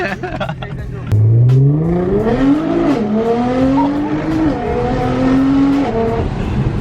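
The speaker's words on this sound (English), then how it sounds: "we're about to go for a ride in the GTR" A modified Nissan GT-R accelerating hard from inside the cabin, the engine note climbing steeply through the gears with loud, continuous rising revs and a gearshift dip, with people talking.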